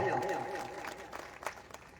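A crowd at a Mahayuti political rally in Kati, Indapur, breaks into applause: a dense, fairly loud patter of clapping that peaks early and slowly thins, with a few sharper claps standing out near the end.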